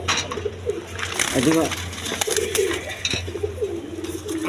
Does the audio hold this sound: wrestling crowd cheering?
no